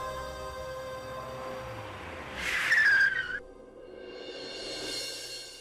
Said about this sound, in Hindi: भाई साहब, गाड़ी साइड में रोक दीजिए।